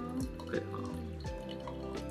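Hot water drips and trickles during pour-over coffee brewing, heard close up as a thin stream with small falling drip tones at irregular intervals over a quiet background.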